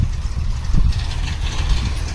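A tractor engine runs close by at a steady low idle, with a continuous rumble and no voices.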